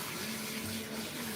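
Water runs steadily while a cat is washed during a grooming session, a soft continuous hiss and splash with a faint low hum underneath, fairly quiet throughout.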